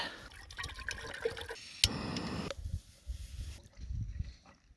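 Water from a stream pours and gurgles into a container, a splashy burst of filling followed by quieter trickles and drips, close by, in New Zealand backcountry.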